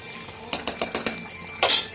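A spoonful of ghee goes into a pot of cooking chicken: a quick run of five metallic spoon taps against the pan, then a louder, brighter scrape and clink, close and clear.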